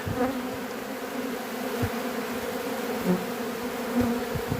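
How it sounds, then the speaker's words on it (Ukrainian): A dense, steady buzzing of many honeybees close by at a hive fighting off robber bees, with agitated swells and bursts of activity throughout. "Дивіться, як героїчно обороняються бджоли, б'ються бджоли, воровки лізуть і лізуть."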